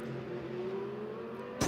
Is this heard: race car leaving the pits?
yes